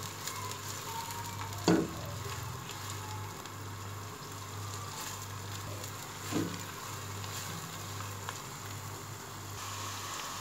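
Onions fry in a pan with a steady soft sizzle while a spoon scrapes and stirs in two brief clanks, with no talking.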